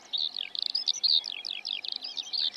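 Eurasian skylark singing in an open field, a rapid run of high, warbling chirps and trills, close and continuous with brief gaps.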